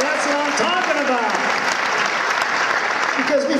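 Loud, dense applause from a crowd at a martial arts awards show fills the whole stretch, with voices calling out over the clapping.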